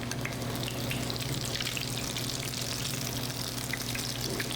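Steady crackling sizzle of food frying in a pan, a dense continuous hiss with a faint low hum underneath, no voices.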